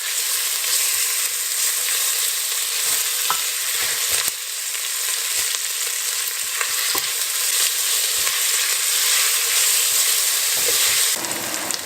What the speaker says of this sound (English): we're going to saute this off for about 5 to 10 minutes, just until the onions are nice and soft